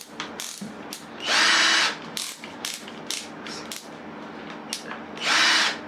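A power drill fitted with a small bit bores a hole in a new tool setup, heard as two short, loud whirring bursts separated by quieter handling noises.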